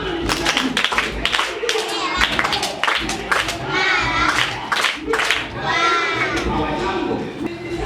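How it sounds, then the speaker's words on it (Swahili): A group of people clap together for a child at a Bible quiz challenge, a dense burst of applause mixed with cheering voices, lasting throughout and easing slightly in the middle before picking up again. "tumpigie makofi."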